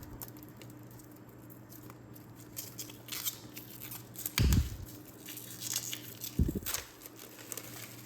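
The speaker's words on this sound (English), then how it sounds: "So remove this plastic sheet." Crinkly tearing and rustling of a plastic sheet being peeled off the box of a OneKey Classic 1S hardware crypto wallet, quiet and close, with a couple of sharper rips and soft crackling.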